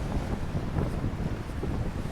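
Sea breeze at a seaside spot in Cyprus buffets the microphone as a continuous, loud, low rumble with no talk.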